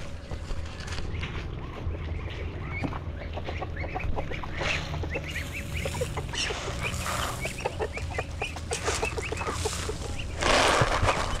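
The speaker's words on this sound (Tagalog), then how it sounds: "Pakainin muna natin yung ating mga bibi." A flock of farm ducks and chickens clucks and quacks continuously at feeding time, a busy overlapping chatter of birds nearby with a brief rustling burst near the end.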